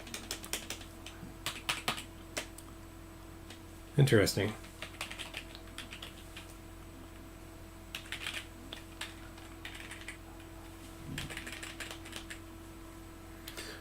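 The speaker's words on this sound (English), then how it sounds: "Oh, my keyboard doesn't work very well." Fast, close clicking of a computer keyboard with a stuck key, typed in bursts with a dense clatter near the start, over a steady electrical hum, with a person speaking briefly.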